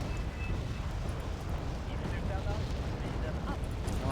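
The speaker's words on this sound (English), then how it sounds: "And yet another arty salvo comes in" Artillery salvos and mortar rounds land in the real-time strategy game Wargame Red Dragon, a dense, continuous wash of distant blasts and rumble, with faint whistling tones above.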